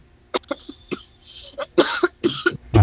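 A woman coughs in a series of short, sharp bursts, with quiet gaps between them and a heavier cough cluster near the end.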